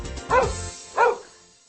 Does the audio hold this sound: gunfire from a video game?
no